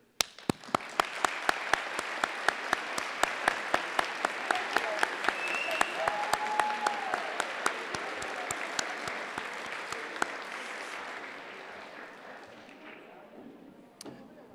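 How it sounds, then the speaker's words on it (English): Graduates applauding their families at a high school graduation ceremony, steady rapid clapping from a large seated crowd that builds, holds, then gradually fades out. "please stand so the graduate can applaud you for helping them along their journey"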